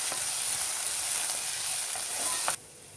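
Washed little millet and moong dal roasting in a pan, a close, steady hiss and sizzle of damp grains with faint stirring scrapes, cutting off abruptly near the end.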